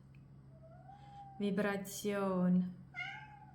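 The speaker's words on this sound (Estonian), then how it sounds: "Kiisupoiss hakkas rääkima." A cat meows several times close by, rising and drawn-out calls over a steady low hum, with a person talking briefly between them.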